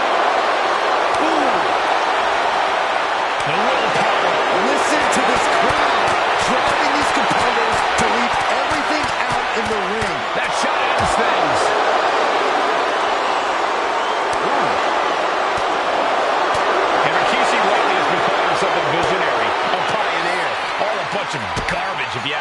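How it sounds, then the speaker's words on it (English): A dense arena crowd in the WWE 2K25 wrestling video game roars steadily throughout, with scattered thumps and slam-like hits over the continuous cheering, as a commentary voice talks over it. "Listen to this crowd."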